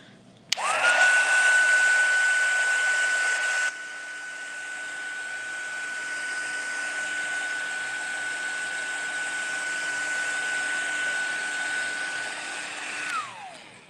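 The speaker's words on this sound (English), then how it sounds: "I'm just going to hit it with the dryer really quick." A hair dryer roars on with a steady high whine and rushing air, drops slightly in intensity after a few seconds, then runs continuously before switching off.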